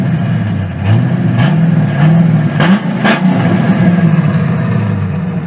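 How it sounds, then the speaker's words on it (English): A 1994 Ford Mustang GT with its 5.0 engine and an exhaust dumped just ahead of the rear axle, revving loudly and close by, with several sharp throttle blips rising over a steady rumbling idle. "See, the car is really loud."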